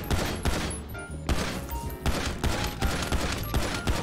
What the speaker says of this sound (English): Gotta shoot the cameras.